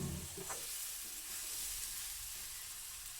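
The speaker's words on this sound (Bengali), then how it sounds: "তো আমি ভালো করে সব নাড়াচাড়া করে দিয়েছি, ডাল সবজি সব কিছু মশলার সাথে" Lentils and mixed vegetables are being stirred with spices in a pan, giving a soft, steady sizzle with a few scraping stirs near the start, fairly quiet and with no talking.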